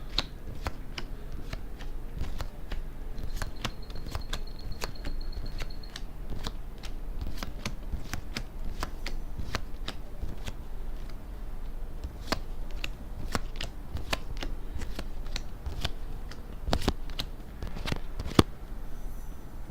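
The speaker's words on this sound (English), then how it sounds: "shuffle these enemy cards and place them at reach" Crisp, rapid riffling and snapping of playing cards being shuffled, repeated in quick bursts, close by, with no voices; enemy cards for the Children of Morta board game.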